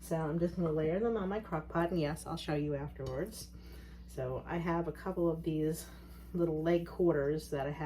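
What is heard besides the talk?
No distinct noise like a dog, phone or traffic.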